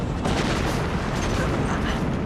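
A sustained, rumbling explosion from a horror film fills the whole stretch, dense and loud with crackling debris-like texture and no clear break.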